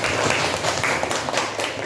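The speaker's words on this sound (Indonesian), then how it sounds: "Tepuk tangan untuk" Students in an Indonesian classroom clap together in a short, dense burst of applause lasting under two seconds.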